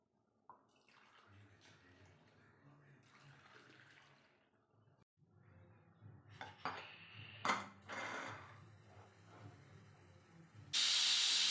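A pressure cooker lifted off the stove and set down after whistling, with clattering metal vessel sounds, then a sudden loud, sustained steam hiss bursting out at the end, no speech.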